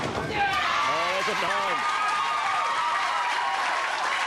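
The crowd at a 1997 Coca-Cola Tenpin Classic bowling match erupts into loud, sustained cheering and applause, with excited shouts near the start and voices carrying over the noise.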